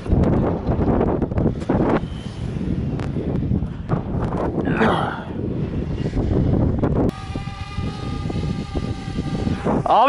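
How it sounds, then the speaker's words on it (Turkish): During a wild boar hunt in open farmland, wind buffets and rustling give way to the steady high-pitched buzzing whine of a drone's motors as it lifts off nearby. "Şimdi drone'u kaldıracağım abi."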